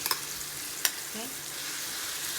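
Pork and bagoong shrimp paste stirred and frying in a pan, a steady broad sizzle with a few sharp utensil scrapes and clicks near the start, close and moderately loud.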